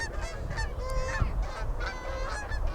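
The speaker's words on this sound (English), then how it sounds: "those Canadian geese going overhead again" A flock of Canada geese honks repeatedly overhead at a rugby match, many overlapping calls at moderate distance over a steady low background rumble.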